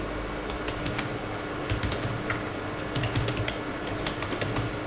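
Someone types on a computer keyboard at a desk: a steady run of close, crisp key clicks with irregular rhythm, fairly loud and continuous over a faint background hum, with no talking.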